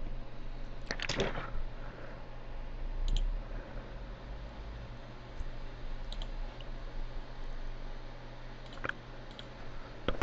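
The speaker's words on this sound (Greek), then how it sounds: "κάνουμε λοιπόν κλικ εδώ για να το κατεβάσουμε" Computer mouse clicks during a software download on a Windows PC, a few sparse sharp clicks spread over a quiet background with faint hum.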